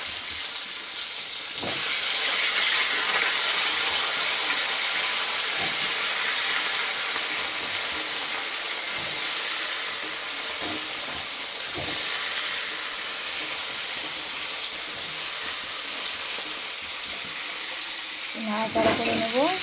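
Vegetables sizzle and hiss in a very hot kadai over a cumin tempering, a loud, steady frying roar that holds throughout, with faint stirring scrapes and a brief voice near the end.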